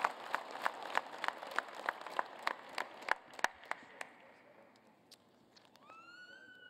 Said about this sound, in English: Please give Chris another round of applause for being here.